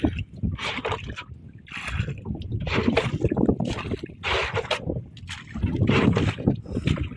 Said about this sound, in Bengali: জাল ছাড়া হচ্ছে নৌকা থেকে।